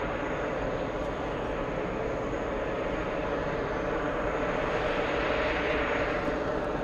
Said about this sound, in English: First takeoff on runway 22 right.